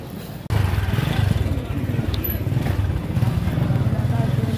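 Motorcycle ride, steady low engine rumble running close after starting abruptly, with a light rattle and road noise while someone talks over it.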